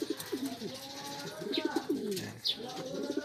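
Pigeons coo close by, with repeated soft throaty rolling calls overlapping one another, mixed with occasional higher chirps and light rustling in the background.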